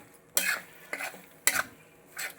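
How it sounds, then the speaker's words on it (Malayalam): A spoon scrapes and stirs Kerala-style fish pickle in a pan, giving four separate metallic strokes spaced about half a second apart over quiet room tone. "ഇനി ഒന്ന് ഇളക്കിയാൽ മതി."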